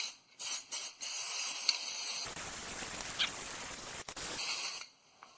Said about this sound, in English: we'll just spray some fluid film around it